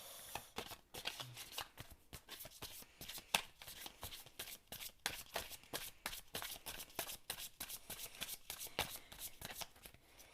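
Oracle cards dealt and laid out one after another on a table, giving a quiet, close run of crisp flicks and soft slaps at a brisk, irregular pace, with no voices.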